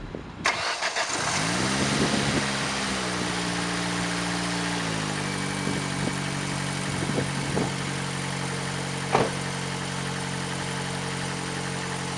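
A Ford Focus SVT engine cranks and catches, briefly revs, then settles into a steady, close idle that runs on evenly, with a couple of faint clicks and knocks in the background.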